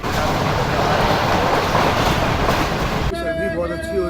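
The Karakoram Express runs on the rails in winter, a loud, dense roar of wheels and carriages that drops abruptly near the end to a quieter hum with tonal ringing, heard from on board.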